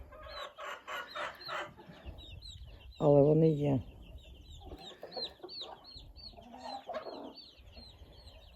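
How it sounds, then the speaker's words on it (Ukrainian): Hens cluck and chirp around a close, loud clucking burst in the middle, with soft peeping chicks and a voice speaking briefly. "Ось такі курчатка."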